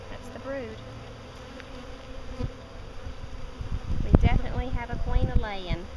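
Honey bees buzz in an opened hive, a soft, continuous hum of many insects close by, with a person talking over it toward the end.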